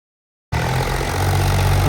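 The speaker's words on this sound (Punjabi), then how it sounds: "ਇਹ ਹੈਗਾ ਸੋਨਾਲੀਕਾ 730 ਕਾਫੀ ਵਧੀਆ ਪਰਫਾਰਮੈਂਸ ਹੋਈ ਟਰੈਕਟਰ ਦੀ" A Sonalika 730 tractor engine starts after a half-second of silence, then idles close and loud with a steady, even rumble to the end.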